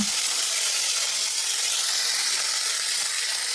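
Bay leaf, dried chilli, cumin and asafoetida hiss and crackle in hot tempering oil, a loud, steady sizzle that holds without pause for the whole stretch.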